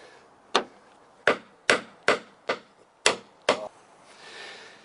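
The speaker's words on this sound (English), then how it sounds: "Take a traditional nail and hammer, piece of hardwood. I'm just going to drive it in here and just see what happens." A hammer drives a traditional nail into a piece of hardwood, with seven sharp, distinct strikes in an uneven rhythm, each a crisp close knock that fades quickly, with quiet gaps between.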